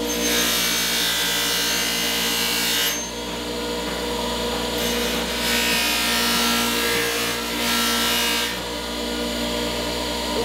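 An adze blade is sharpened with a continuous rasping, scraping grind, loud and close, broken by a few brief dips where the strokes pause before resuming.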